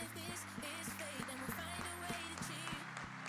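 An audience at a startup awards ceremony applauds, steady clapping spread through the room under music and background sound, moderately faint.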